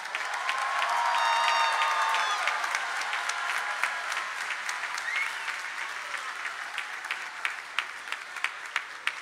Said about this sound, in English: Please honor all of the master's degree awardees with your applause.